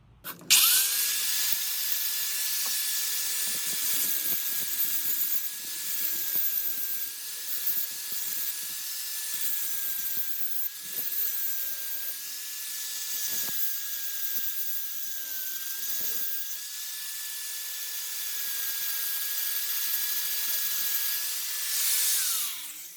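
A power tool cuts a notch into painted metal ahead of welding, a loud continuous high whine running steadily for over twenty seconds with slight wavering pitch and scattered rattles, close and uninterrupted by talk.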